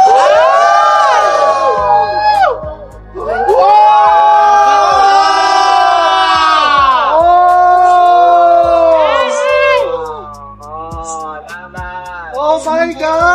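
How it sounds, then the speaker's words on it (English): At a sendoff for Miss Universe Philippines 2025, a crowd erupts in loud, sustained cheering, with high shrieks, whoops and excited shouts rising and falling in waves, close and dense, with scattered claps. "Let's give a round of applause to our Miss Universe Philippines 2025, Maria Atisa Manalo."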